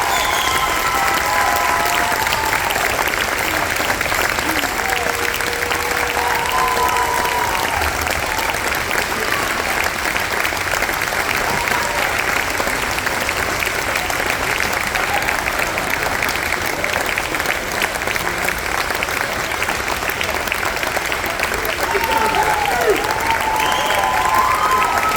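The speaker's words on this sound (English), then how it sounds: "give us a monstrous applause for these kids up here" Audience applause for students after a performance at a high school spring concert, a dense sustained clapping from a large crowd that holds steady for the whole stretch, with faint scattered cheers mixed in.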